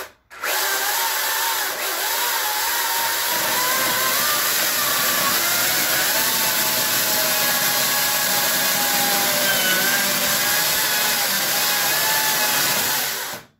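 An angle grinder cutting into a wooden log to carve a bowl, a loud continuous whining drone held steady for over ten seconds, starting and stopping abruptly, close up with no voices.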